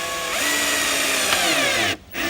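A power drill whirs steadily as it drives into wood, loud and close, then briefly cuts out near the end before starting up again.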